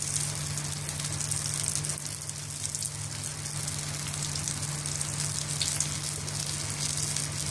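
Stuffed brinjal fries slowly over a low flame with a soft, continuous sizzle and gentle crackle, with a steady low hum beneath and no talking.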